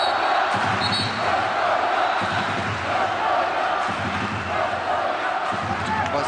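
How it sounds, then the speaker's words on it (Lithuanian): Basketball fans of Vitoria's Baskonia chant in unison across an arena, a dense crowd roar with rhythmic swells under faint court noise. "Baskonija skanduoja Vitorijos fanai"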